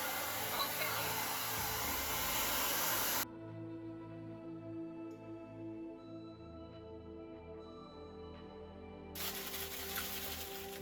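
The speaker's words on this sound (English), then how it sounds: "I might not have a heat gun after this." A heat gun blowing hot air over resin, a loud steady broadband whoosh that cuts to a quieter hum in the middle and then roars back near the end.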